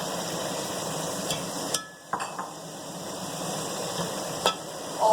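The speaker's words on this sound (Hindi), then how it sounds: "अब यहाँ हम अपना फ्लेम थोड़ा सा स्लो करेंगे और इसमें हम ये टमाटर ऐड कर देंगे।" Tomatoes and spices go into a hot frying pan over lowered flame, giving a steady sizzle with a couple of sharp clatters partway through and no talking.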